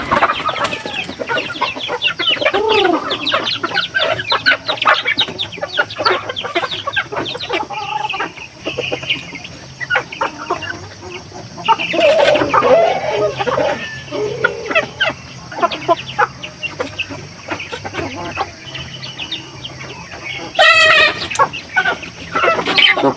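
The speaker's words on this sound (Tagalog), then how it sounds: "So magbubahog na tayo ng manok," Several chickens cluck and chatter close by at feeding time, with a rooster crowing briefly later, amid busy farmyard noise.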